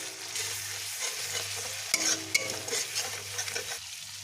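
Ground cumin, dried red chilli paste and turmeric powder sizzle and fry in hot oil in a pan while being stirred, a steady close crackle with a few scraping spoon strokes, no talking.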